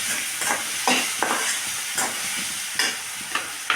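Grated coconut and dried red chillies sautéed in a pan, with a soft continuous sizzle broken by several brief scraping stirs of a spatula at irregular intervals.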